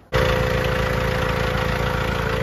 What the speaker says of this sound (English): You probably can't hear my voice over the noise here of the tractor